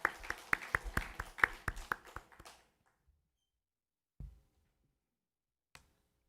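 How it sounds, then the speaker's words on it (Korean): A congregation at a Wednesday church worship service claps in an even, steady rhythm for about two seconds, then the applause trails off into near silence with a couple of faint isolated knocks afterwards. "우리 감사와 영광의 마음을 담아 하나님께 박수 드리도록 하겠습니다"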